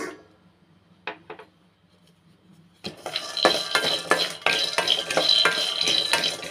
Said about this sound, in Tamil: இந்த நிலக்கடலை வறுத்துக்கலாம்.